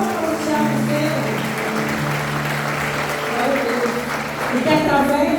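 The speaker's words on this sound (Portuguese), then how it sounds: "Vamos comigo, palmas para o Tiago Sena." A church congregation applauds during a thanksgiving service and certificate ceremony, steady dense clapping filling the whole stretch, with a voice speaking over it and a sustained musical tone underneath.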